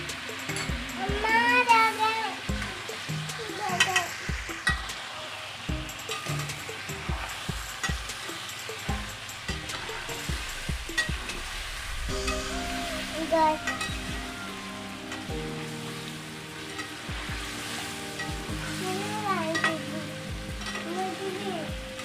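Chicken karahi sizzles and fries in a pan as garlic and ginger paste is added and stirred, a steady crackling hiss with scraping stir strokes throughout, under intermittent talk and background voices.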